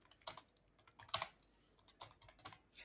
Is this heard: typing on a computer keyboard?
yes